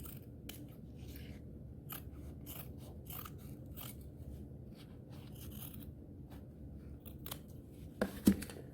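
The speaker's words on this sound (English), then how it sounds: "you're just gonna cut all the way around" Scissors cutting all the way around a box frame clutch pattern, close-up, with repeated crisp snips and soft paper rustles between them, and a sharper clack near the end.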